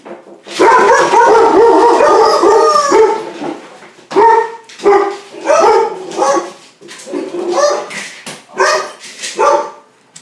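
Several dogs bark and howl loudly nearby, beginning with a sustained, wavering howl-bark chorus and then breaking into rhythmic bursts of barking.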